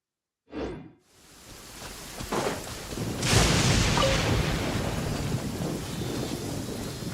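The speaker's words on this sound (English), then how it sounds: "Many people dread the sound of thunder." A thunderstorm in Genshin Impact: a short crack, then a deep rumble of thunder that swells and rolls on under a steady hiss of heavy rain and wind.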